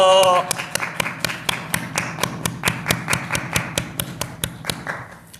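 A church congregation at an online New Year's Eve service claps together in a steady rhythm of sharp, close claps lasting several seconds, the pace holding even before fading at the end.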